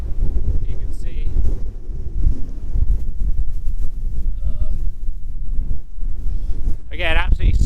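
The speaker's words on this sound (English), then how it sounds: "absolutely smashed by the wind, which is picking up all of this lovely puffy snow and whipping it through us" Strong mountain wind whipping puffy snow into spindrift roars across the microphone in a constant low buffeting rumble, with faint voices and a brief whistle-like sound near the end.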